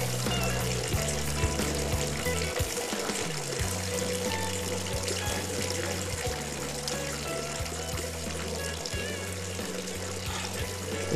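Water from a stone village fountain in the Ávila mountains runs and trickles continuously, a steady, close splashing with no voices.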